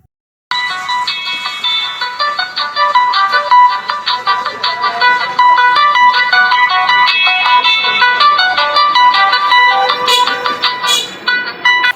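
A Walton keypad mobile phone plays its ringtone, a loud, bright electronic melody of rapid repeating notes that starts abruptly and continues steadily, close by and alone.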